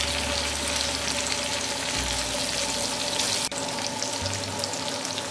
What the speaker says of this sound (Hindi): पलट पलट के पनीर को क्रिस्पी होने तक फ्राई कर लेती हूँ